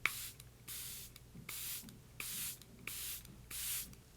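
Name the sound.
spritzing Charlotte Tilbury Airbrush Flawless Setting Spray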